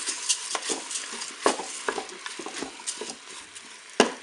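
Rice with mussels and peppers is stirred in a Cookeo pot, making a string of light, irregular scrapes and taps of a utensil against the pot. A sharper knock comes near the end.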